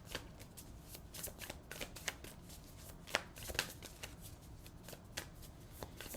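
Tarot cards shuffled and flipped in steady crisp riffles and slaps, with a few sharper snaps as cards are drawn, close and fairly quiet with no talking.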